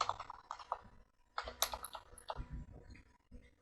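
Quiet bursts of typing on a computer keyboard, quick clusters of key clicks separated by short pauses, close by with no talking.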